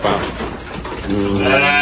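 Kibas sheep bleat loudly at close range on a farm in Lhokseumawe, with a couple of wavering, nasal calls in quick succession over background farm noise.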